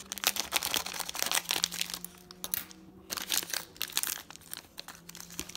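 Crisp crinkling and tearing of the foil wrapper on a 1989 Topps baseball card pack, close and bursty, in rapid irregular bursts with short pauses.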